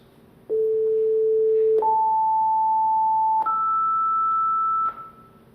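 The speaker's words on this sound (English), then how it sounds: "these are now 3 tones, which is essentially times 1, times 2, and times 3" Three steady pure tones play one after another, an A440 followed by its second and third harmonics, each sustained for about one and a half seconds and stepping upward in pitch, loud and clean with no talk.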